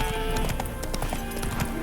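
Roach, Geralt's horse in The Witcher 3: Hearts of Stone, clops along in steady, close hoofbeats over a dense bed of game ambience and music, with no whinny clearly standing out.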